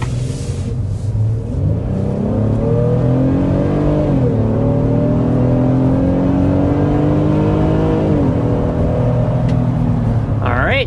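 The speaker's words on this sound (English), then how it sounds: "That takes us up to 60 miles per hour in the Honda Pilot." A 2026 Honda Pilot accelerates hard to 60 mph, its engine droning loudly and steadily from inside the cabin, rising in pitch with two distinct gear shifts along the way.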